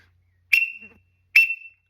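A duck whistle blown to imitate a teal call gives two short, sharp peeps about a second apart, alone in a quiet setting.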